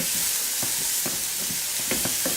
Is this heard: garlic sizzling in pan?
yes